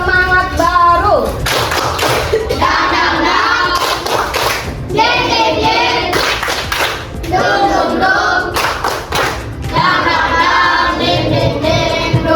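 Schoolchildren in a Grade 5 Indonesian class perform the tepuk semangat baru clapping routine, loud close bursts of rhythmic group claps mixed with chanted kid voices, pausing and restarting in patterned sections.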